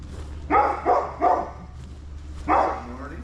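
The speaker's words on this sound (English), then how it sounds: "Here's his dog." A dog barks four times, close by, three in a quick run and then one more after a pause, over a low steady hum.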